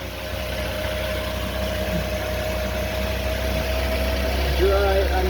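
2015 Toyota Corolla engine idling after an oil service, a steady low hum with a faint even rumble, close and constant, with people talking over it.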